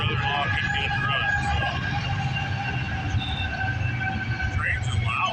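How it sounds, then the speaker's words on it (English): Loud train passing close by, a steady rumbling roar with rattling wheels and metallic squeals continuing throughout. "So trains are loud."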